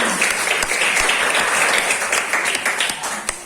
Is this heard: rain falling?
no